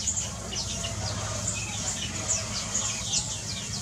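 Brown munias, small wild finches, give repeated thin high chirps and twitters in a steady chorus among palm trees, mid-distance over a constant low background rumble.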